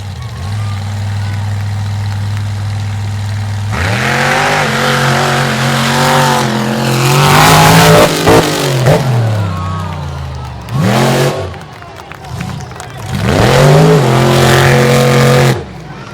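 Toxic, a monster truck driven by Corey Snyder, makes a qualifying race run at a monster truck show in Dinwiddie, Virginia, its loud engine roaring and revving in surges with a short dip, over a steady low idle at the start.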